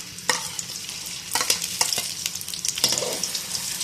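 Sliced onions fry in ghee for a white chana pulao, a steady sizzle broken by several bursts of stirring and scraping in the pan, close and moderately loud.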